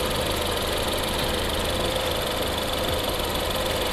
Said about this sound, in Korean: 엔진 소리도 일정하고 좋네요.